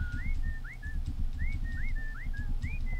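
Repeated short rising whistle commands from the Atlas video game during chicken taming chirp in quick rhythmic bursts over a constant low rumble of game ambience.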